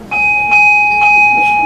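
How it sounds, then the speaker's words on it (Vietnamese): A Buddhist temple bell being struck: a loud, clear metallic tone with a steady ringing hum, struck again softly a few times as it sustains. "Này gõ chuông, còn nếu mà không khéo là đập chuông, có ngày nó bể."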